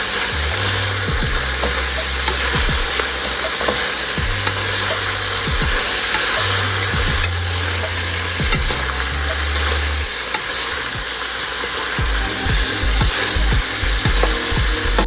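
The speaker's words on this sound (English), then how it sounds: "And then I'm just going to stir that together." Peppers and onions sizzle and fry in a pan, turned with a utensil that scrapes and taps against the metal, a steady close hiss running throughout with no one speaking.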